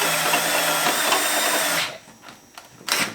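Neiko titanium step drill bit boring a 1/2 inch hole, a loud steady grinding whine for nearly two seconds that cuts off abruptly, followed by a few brief scrapes and a short final burst.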